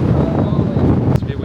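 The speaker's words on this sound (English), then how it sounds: "It's a bit windy." Wind buffets the microphone in a loud, low rumbling roar, gusting steadily with a brief crackle near the end.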